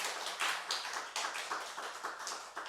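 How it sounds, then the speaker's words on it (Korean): A church congregation at a Sunday service claps to welcome the pastor. The quiet, steady applause comes from a room of people, with clap bursts swelling and fading over a couple of seconds. "목사님 나오실 때 박수로 환영해 주시기 바랍니다."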